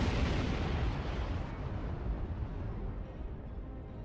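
Continuous heavy weapons barrage from starships in Star Trek Online, a dense rumbling roar of sustained fire and blasts that stays loud throughout with no voices.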